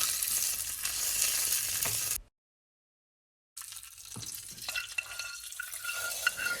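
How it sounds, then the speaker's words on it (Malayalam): Hot tempering poured into moru curry, a curd curry made without coconut, bursts into a loud close sizzle, breaks off into a moment of silence, then returns as a softer bubbling fry with faint stirring clinks. "ഇനി ഇതെടുത്ത് മോര് കറിയിലോട്ട് ഒഴിച്ചു കൊടുക്കാം."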